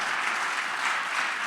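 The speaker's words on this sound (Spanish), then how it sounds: "Palmas a nuestro Dios." A church congregation claps together during a Sunday worship service, a dense, steady burst of applause filling the room without a break, with no voice over it.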